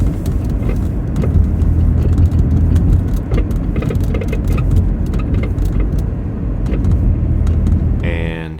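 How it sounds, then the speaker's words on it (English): Worn, failing strut mounts on a 1999 Toyota minivan, heard as repeated knocks and clunks over a steady road rumble while driving, close and fairly loud. "Here's what it sounds like when they fail."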